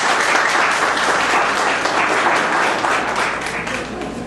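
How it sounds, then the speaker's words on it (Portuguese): A live audience applauds a woman called up from the crowd at a product presentation, a dense, steady wash of clapping that fills the whole stretch and tapers off slightly toward the end. "Gente, uma salva de palmas para ela"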